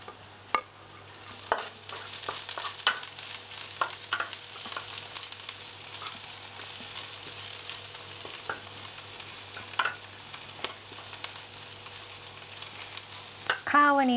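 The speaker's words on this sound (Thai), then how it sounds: "เดี๋ยวเราจะผัดกระเทียม กับหอมแดงซอยไปก่อนค่ะ" Garlic and sliced shallots stir-fried in a pan over medium heat for Thai chili-paste fried rice: a steady close sizzle runs throughout, broken by frequent scraping and clacking strokes of the spatula, with no talking.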